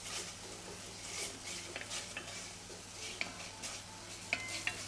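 Red curry paste sizzles steadily in a pan for Thai khao soi while being stirred, with a continuous hiss punctuated by small scrapes and clicks up close.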